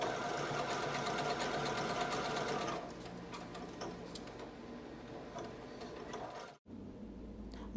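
Sewing machine stitching along the bottom of a jeans crotch repair, a steady fast mechanical run that eases lighter partway through, then stops briefly before a faint restart; no talk.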